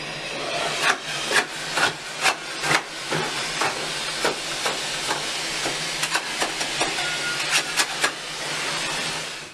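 A wallpaper steamer gives a steady hiss of steam while paper is stripped from a wall, with scattered sharp scraping and tearing clicks on top, close and continuous.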